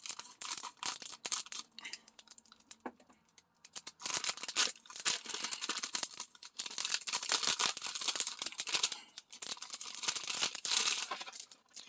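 Scissors snip and tear through plastic packaging holding a macrame carnelian stone necklace and bracelet set, with close crinkling and rustling bursts in uneven spurts and a short quiet pause early on.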